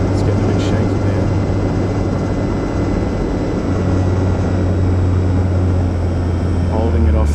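An RC T-28 Trojan model airplane's propeller engine drones steadily while the plane comes in on its landing approach, a continuous buzzing whine with a low hum that holds its level throughout.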